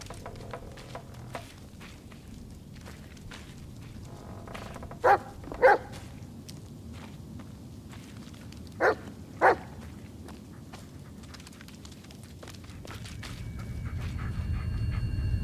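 A dog in the Blair Witch video game barks in two quick pairs of short, sharp barks, with soft panting and a quiet ambient background in between.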